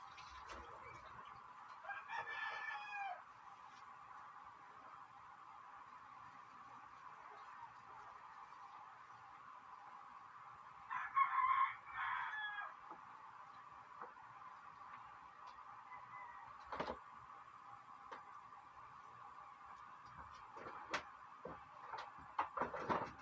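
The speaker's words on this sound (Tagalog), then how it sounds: "ang daming manok dito" Chickens on a rural cooking spot cluck and crow in short bursts over a steady background hum, with a louder cluster of calls midway and scattered sharp noises near the end.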